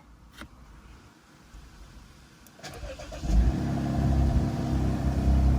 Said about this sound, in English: Let's start the engine right now and the battery voltage should go up.